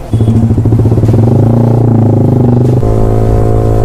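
Modified Yamaha R15 V4 motorcycle engine idling close and loud with a steady, throbbing tone that rises in a short rev and then settles back to a lower idle.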